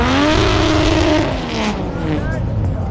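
A 700 horsepower turbo Barra-engined car doing a burnout at a competition, a loud, continuous engine roar with screeching, squealing tyres, heard close and dense, with voices partly buried beneath it.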